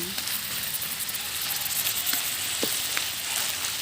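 Shrimp and cabbage sizzle steadily in a hot pan while being stirred, a constant loud frying hiss with faint scrapes of the utensil.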